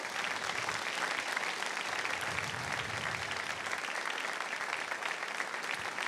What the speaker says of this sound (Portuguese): dá ao Senhor uma linda salva de palmas